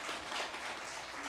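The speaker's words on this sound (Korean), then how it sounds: "박수 한번 해주시기 바랍니다." A church congregation applauds, a soft, dense patter of many hands clapping at a distance, steady and fairly quiet throughout.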